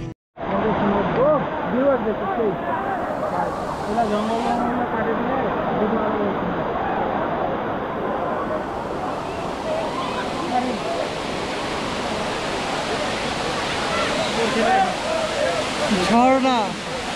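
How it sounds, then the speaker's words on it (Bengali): Thottikallu waterfall pours down in a steady, loud roar of rushing water that fills the whole scene, with splashing surges and voices of people talking near the base of the falls. "ঝর্ণার যে শোষ আওয়াজ এটাতেই তো মন কেড়ে নেয়।"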